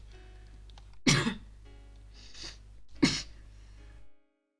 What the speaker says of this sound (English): if these coughs don't stop soon, I am gonna go crazy.